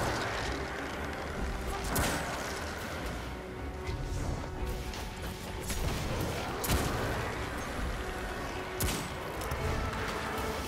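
Sustained, dense rapid-fire gunfire from a spinning multi-barrel gun in Destiny 2, loud and continuous, with a few sharper crashes punctuating the steady roar.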